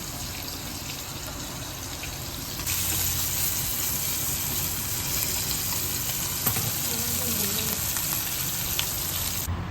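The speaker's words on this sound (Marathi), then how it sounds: "मांदेली फ्राय होत आहेत मस्तपैकी सुरमई फ्राय तर झालीच आहे" Mandeli and surmai fish frying in a pan, giving a steady broadband sizzle that grows louder partway through and carries on without a break, with faint background sounds and no talking.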